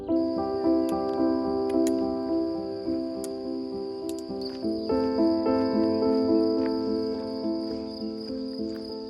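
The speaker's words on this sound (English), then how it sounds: "There are so many bugs here. I've never seen such a thing. The air is thick with them." Many crickets chirp loudly and steadily in dense, overlapping pulses along a hiking trail, with no voices.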